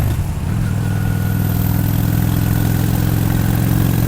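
A Honda Shadow VT 600 motorcycle pulls in fourth gear with a steady, deep, throbbing engine drone that stays loud and even throughout, with no talk.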